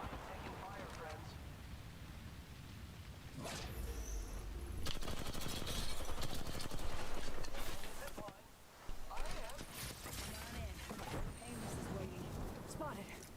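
Gunfire in Call of Duty: Modern Warfare, with dense bursts of automatic shots and loud sustained fusillades swelling through the middle, a voice talking over the battle noise.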